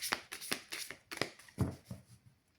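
Tarot cards are riffled and shuffled by hand for a card draw, a series of soft, quick papery flutters close to the listener and quiet overall, with no talk.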